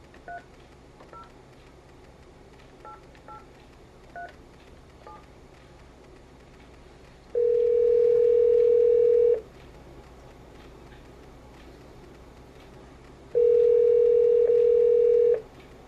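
A telephone keypad sends a series of short, evenly spaced dialing beeps, followed by two long, steady tones separated by a pause, all clear and close with no talking.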